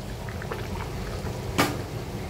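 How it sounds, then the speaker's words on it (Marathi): A bottle gourd curry simmers at a boil in a pot, making a steady bubbling hiss with soft pops, and one brief sharp clink partway through. "छान उकळी आलेली आहे बघू शकता"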